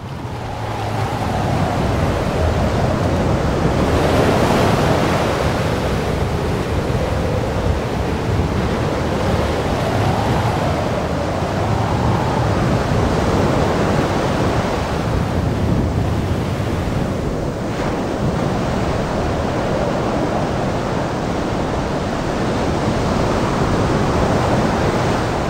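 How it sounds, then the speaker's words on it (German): Wild Atlantic surf pounds a deserted Aruba coast, a loud continuous roar of breaking waves with heavy wind buffeting the microphone throughout. "An dieser menschenleeren Küste herrscht der wilde Atlantik."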